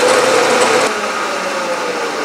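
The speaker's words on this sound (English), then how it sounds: "Now I'll drill it 1/4 inch all the way into the cavity." Loud, steady whine of a drill press boring a 1/4 inch hole into a metal lead hammer mold, with a high grinding tone that drops slightly in pitch partway through.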